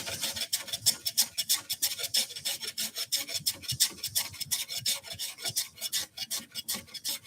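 Hand plane shaving wood on a bird box, starting at a high corner: a quick, steady series of dry rasping strokes, close and fairly loud, with no talking.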